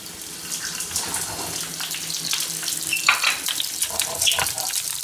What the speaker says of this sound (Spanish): vamos a sellar. Ponemos la carne, el trozo de carne